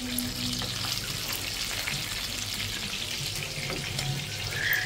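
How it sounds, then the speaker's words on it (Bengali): Pangas fish frying in a pan at home, a steady close sizzle and crackle of oil running the whole time, with faint clatter and no talk. "তারপর আমি ভেজে নিতেছি।"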